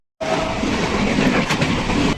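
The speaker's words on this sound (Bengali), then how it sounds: "সেই সাথে আমাদের ট্রেন প্রবেশ" A Barasat–Bangaon local train pulls into Gobardanga station, a loud, steady rumble of wheels and carriages starting abruptly and rolling on with a brief squeal partway through.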